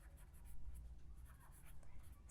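Pen writing notes on paper, faint close scratching strokes in short irregular bursts over a soft low background, with no voice present.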